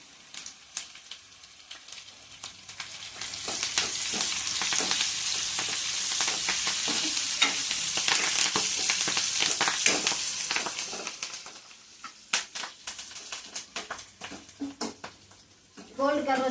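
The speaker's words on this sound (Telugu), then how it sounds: "గోల్డ్ కలర్ వచ్చేదాకా వేయించుకుందాము" Curry leaves and onions fry in hot oil for a tempering, giving a steady, close sizzle that swells loud through the middle and then thins out, with scattered stirring clinks and a voice speaking over the cooking.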